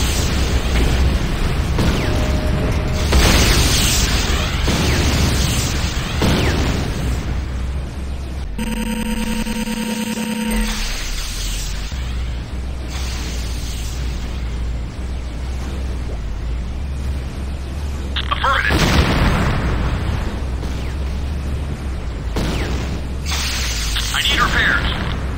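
Repeated loud booms and crackling blasts as a GDI Tiberium Refinery is destroyed in the video game Renegade, with heavy battle noise throughout and a synthetic announcer-style voice speaking over it.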